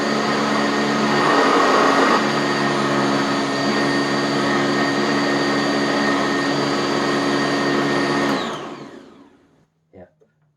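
A Sanitaire SC679K upright vacuum cleaner with a thick shakeout bag runs loud and steady with a bright motor whine for about eight seconds, then winds down to silence, followed by a couple of faint clicks.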